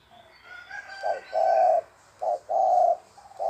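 A dove coos nearby in a series of low, hollow notes, a few short and a couple drawn out, with quiet pauses between.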